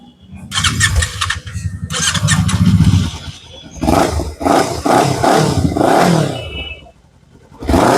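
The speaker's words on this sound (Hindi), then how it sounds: "DB किलर लगाने के बाद कैसा साउंड होता है ये भी सुन लो आप एक बार" A Kawasaki Ninja 300 with a modified exhaust and a dB killer fitted revs hard and close in several loud, rasping throttle blips and sustained roars, with short pauses at idle between them.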